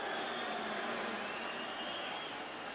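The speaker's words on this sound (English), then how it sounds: "the crowd not happy with the linesman" Football stadium crowd at a Celtic versus Manchester United pre-season friendly, a steady distant roar of murmuring and grumbling spectators reacting unhappily to a linesman's call, sustained throughout without clear cheers.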